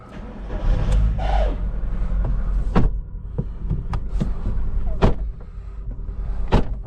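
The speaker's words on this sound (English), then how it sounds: "The door doesn't shut." A car door on a scrap silver petrol VW Golf is worked repeatedly but will not shut, giving a run of sharp metallic clunks and latch knocks spaced over a low rumbling, motor-like background, close and fairly loud.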